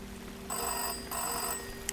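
Telephone in a video game ringing with two electronic trill bursts, clear and moderately loud over a quiet low ambient hum.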